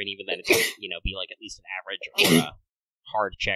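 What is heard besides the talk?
sneeze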